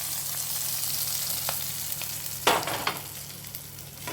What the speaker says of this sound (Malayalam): കടുക് താളിക്കാം.